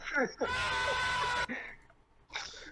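A man screams in a short played sound clip, a harsh, strained cry held for about a second amid brief vocal noises, followed by a pause and another short burst.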